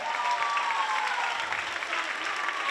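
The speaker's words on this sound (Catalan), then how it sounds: "Aplaudiment per ells, sisplau, per elles" A crowd applauds at a Barcelona circus show, with steady, dense clapping at moderate distance holding throughout.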